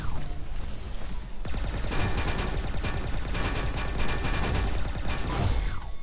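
Rapid bursts of pulse gun fire in the arena shooter Reflex, a dense stream of repeated zapping shots running almost continuously, loud and close, with a brief pause before a final volley.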